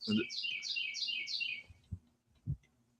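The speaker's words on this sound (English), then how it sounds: "Orlean Whitlow, the bird just wants to help you do the weather" A small bird gives a rapid series of about six bright descending chirps close by, followed by a couple of soft low thumps and near silence.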